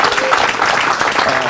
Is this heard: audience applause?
yes